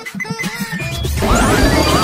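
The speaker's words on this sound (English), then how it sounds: "Car has crashed into a gas station." A car crashing into a gas station: a loud, sustained smash with crumpling metal and debris, rising into a dense noisy crash that fills the last second.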